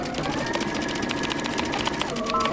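A sewing machine runs steadily, stitching a 5/8 inch seam allowance to close a dress, a continuous close mechanical whir with no pauses.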